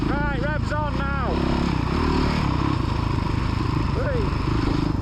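Motocross motorcycle engine on a dirt track, revving up in several quick rising sweeps and then settling into a rough, loud, steady run, with a voice calling out over it.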